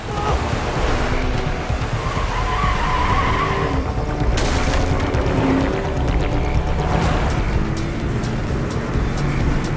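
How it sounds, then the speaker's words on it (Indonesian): Cars in a street chase from the Korean drama My Name: loud tire skidding and roaring engines in a continuous, dense rush of noise with no pause, close and intense throughout. "Ketika sedang terjadi kejar-kejaran di jalanan, Pildo berhasil mengelabui para pengejar tersebut dan membuat mobil mereka saling bertabrakan dengan mobil lain."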